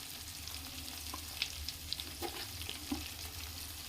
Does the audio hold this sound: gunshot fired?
no